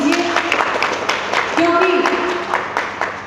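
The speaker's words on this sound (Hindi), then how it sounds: "आप लोग जोर से तालियों से इनका अभिनंदन कीजिए" At a book launch ceremony, an audience claps in scattered, rhythmic bursts throughout, with a voice speaking over the applause.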